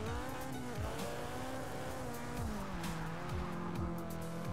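Loud, continuous engine whine from a race car in Forza Motorsport 6, with its pitch swooping and dropping as the car spins out while tires squeal and skid throughout.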